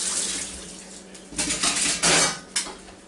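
A hot metal broiler rack is set into a kitchen sink, clanking and rattling loudly against the basin in several close metallic knocks over faint running water.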